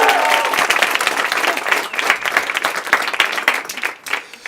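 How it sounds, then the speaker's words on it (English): Wedding guests at a ceremony break into loud, sustained applause for the bride, a dense crowd of clapping hands that holds steady and then tapers off near the end. "Just give her a round of applause."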